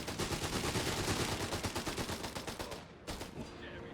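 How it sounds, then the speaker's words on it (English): Rapid gunfire and explosive bursts from a Company of Heroes 3 battle, where a German pioneer fires a Granatenbüchse grenade launcher; dense, continuous volleys crowd the mix, with a brief lull near the end before shots resume. "Falchion Pioneer just enjoying the stay there with the grenade launcher, the Granatenbüchse"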